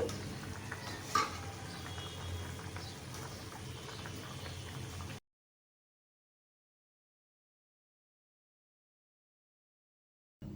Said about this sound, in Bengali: এই যে মাছের পিসগুলো আমি ভালোভাবে উল্টিয়ে দিচ্ছি